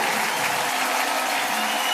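A congregation applauding at a French-language religious gathering, a steady, dense wash of clapping that holds evenly for the full two seconds with no voices rising above it.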